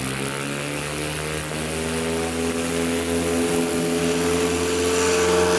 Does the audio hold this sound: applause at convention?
no